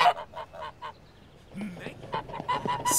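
Several birds honk and squawk in short repeated bursts, some close and some farther off, with no talking.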